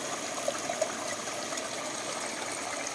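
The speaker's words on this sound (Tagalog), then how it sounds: "Ganito kaganda yung aming ilog oh, napakaluang." A river flowing between low hills in rural farmland, heard as a steady, soft wash of running water at moderate distance, continuous and unbroken with a few faint splashes near the start.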